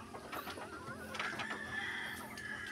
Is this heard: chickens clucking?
yes